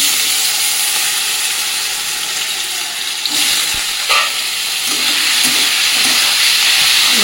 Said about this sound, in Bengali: এবার কড়াইতে কিন্তু আমি সাদা তেল দিয়ে দিয়েছি। এবার এক এক করে সবজিগুলো আমি ভেজে নেবো। প্রথমে গাজরটা ভেজে নেবো।